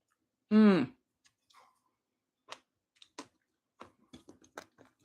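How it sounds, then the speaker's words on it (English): Someone chews a big bite of crunchy pasta salad dressed with homemade oil-free mayonnaise. A short voiced sound comes first, then sparse, faint, close crunching clicks follow with no talk. "I hope you can hear that crunch."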